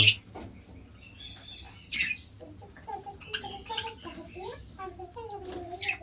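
Pet lovebirds in a home aviary give scattered chirps and short twittering calls, some sharp and close, over a quiet background.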